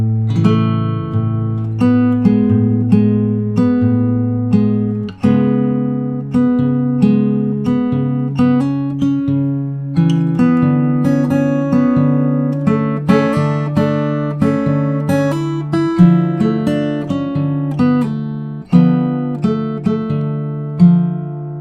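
A fingerstyle acoustic guitar plays slowly, plucked notes and chords ringing out one after another at an unhurried pace, close and clear with no voices.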